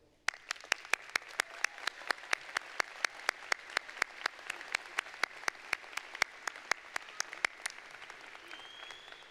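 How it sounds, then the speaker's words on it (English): Applause at the McGeorge School of Law 2024 commencement ceremony comes through as crisp, separate claps in a steady, even rhythm over about nine seconds. The claps are fairly soft against a quiet hall and taper off at the end. "please join me in thanking the class of 2024 with our applause"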